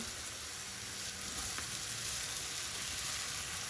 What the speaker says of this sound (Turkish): bir yemek kaşığı domates salçası ilave ediyorum ve salçanın kavrulmasını sağlıyorum